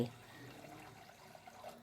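A glass of water is poured into a pressure cooker, making a quiet, steady gurgling pour with light splashes throughout.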